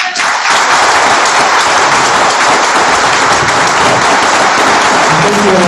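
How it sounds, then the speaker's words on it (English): Loud, dense audience applause fills the room at an evening storytelling event, a continuous wash of many hands clapping together from start to finish. "Let's give another round of applause."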